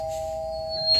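A doorbell rings as a steady electronic tone held for about a second, fairly clear against a quiet room, with a brief rise in level at the very end.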